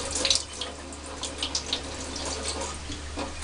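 A bathroom tap runs into a sink during rinsing after tooth brushing, a steady low splashing flow with faint water sounds throughout and no talking.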